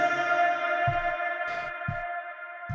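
A bounced reverb tail from a vocal sample processed through Space Designer forms a dense, dissonant wash of sustained tones, punctuated by a few short low thumps, with no voice speaking.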